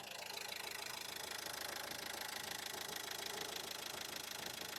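A 2011 Renault Megane 3 1.5 dCi (K9K) diesel engine idles steadily with an even, low mechanical rumble and light knocking, close by and constant throughout.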